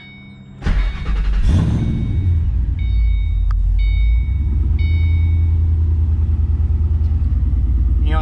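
A supercharged Jaguar 6R car engine cranks and fires up, then settles into a loud, steady idle with a low rumble and faint whine, recorded close with no talk.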